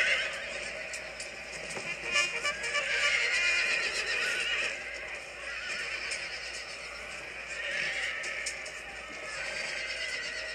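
Horses neighing and whinnying amid the clatter of hooves during a cavalry charge at the Battle of Waterloo in a video game, with dense battle noise running continuously throughout.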